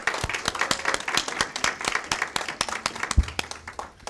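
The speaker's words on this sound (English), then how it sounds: "And how about one more round of applause for our awardees?" Audience applause at a state board of education meeting honoring awardees, a steady patter of many hands clapping throughout with a few louder claps, no talk over it.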